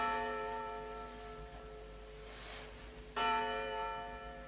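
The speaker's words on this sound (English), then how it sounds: "Oh, why don't they stop ringing that bell?" A church bell rings with long, humming overtones that slowly decay before another strike rings out, moderately distant and steady, with no voices.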